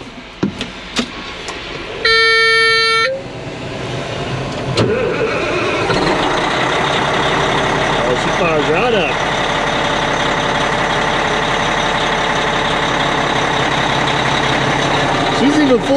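A truck engine at an auction cranks, catches and settles into a steady running rumble, with a brief horn toot and clicks as it starts, and people talking nearby.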